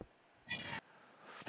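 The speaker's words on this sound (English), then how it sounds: "And now the cats are screaming." Cats screaming indoors: two loud, drawn-out yowls, one near the start and a second rising call toward the end, separated by a quiet pause with no talking.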